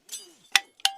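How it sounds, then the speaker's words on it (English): Metal climbing gear clinks sharply as a soldier unclips after a first mountain abseil in a British Army radio advert, a soft initial rattle followed by two crisp, close metallic clinks. "The sound of a soldier unclipping from their first mountain abseil"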